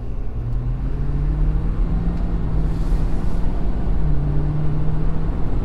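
A 2020 Ford Super Duty pickup accelerates from about 30 mph to merge onto a highway, its engine a steady, loud low drone that climbs slowly in pitch over wind and road rumble, with no talking.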